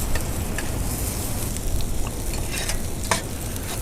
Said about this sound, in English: I'm quickly going to stir these onions. Just see how beautifully they go till golden.